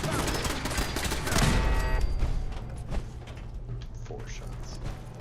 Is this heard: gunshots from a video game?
yes